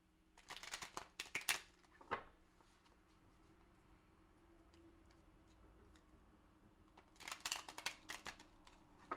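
Tarot cards are shuffled in two quick rippling bursts of rapid flicks, close and crisp, with a quiet pause between them.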